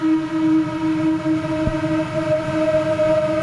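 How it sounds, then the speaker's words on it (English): A flute sample slowed down twenty times in music software, turning into a steady, droning tone with sustained layered pitches and a brief low thump partway through. "Let's see what slowing it down 20 times sounds like."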